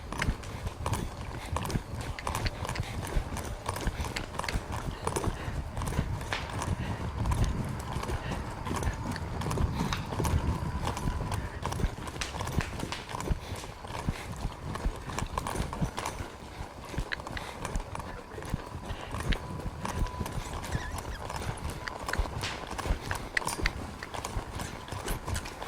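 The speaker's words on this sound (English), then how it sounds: "Keep encouraging this horse to get forward." Hooves of a bucking stallion clip-clop in a steady, continuous rhythm as the horse is ridden forward, close and fairly loud throughout, with faint creaks of tack and no talking.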